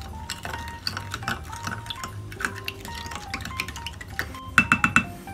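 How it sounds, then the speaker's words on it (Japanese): Milk and sugar are stirred in a small dish for a microwave milk pudding, producing a series of light clinking and scraping taps of spoon against the container, close and fairly quiet, with denser taps near the end. "で、あとはこれを混ぜましょう。"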